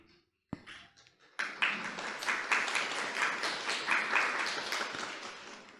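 Online satsang participants clap together over a video call, a dense patter of many hands that starts abruptly and keeps a steady, moderately loud texture for several seconds, with a brief tap just before it begins.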